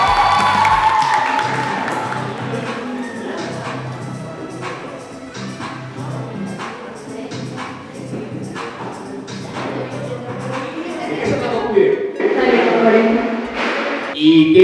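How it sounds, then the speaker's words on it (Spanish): School audience at a Colegio Andrés Bello audiovisual contest, clapping and cheering with thumps and whoops, the crowd noise swelling again near the end, with voices mixed in. "¡Un aplauso para Nana!"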